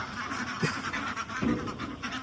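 Farm ducks give two short, distinct quacks close by over a steady murmur of outdoor background noise, with no speech.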